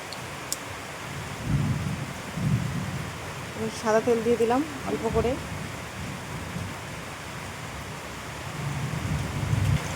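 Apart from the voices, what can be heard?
thunder and heavy rain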